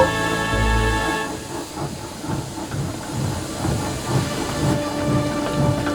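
A steam engine pulling two royal coaches rolls into a station platform, with a steady steam hiss, sustained whistle tones and a rhythmic rumble of wheels on rails throughout.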